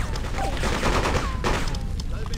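Rapid gunfire bursts from the video game Freedom Fighters, loud and dense over a continuous rumble of combat noise, with whistling tones sliding through the mix.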